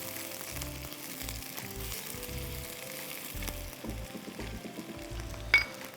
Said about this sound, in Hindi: प्याज आपने हल्का सा तलना है